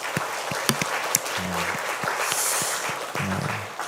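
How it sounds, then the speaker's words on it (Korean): A church congregation claps together after a pastor's call to give thanks, a dense steady applause in a large room lasting several seconds, with a few sharper individual claps standing out. "우리의 삶에 그런 은혜를 베풀어 주신 하나님께 한번 큰 영광과 감사의 박수를 올리겠습니다."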